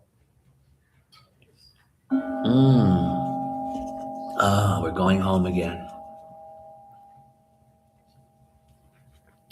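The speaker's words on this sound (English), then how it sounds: "Now Jody's going to ring the little bell." Someone rings a small hand bell: a clear, bright strike followed by a steady ringing tone that fades slowly over several seconds. A person talks over the start of the ringing.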